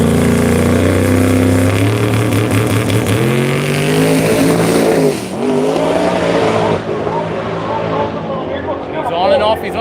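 Drag radial race car on an Australian drag strip pass with the driver pedalling the throttle on and off: a loud, close engine roar that surges, drops and rises again, with tire noise and a voice over it.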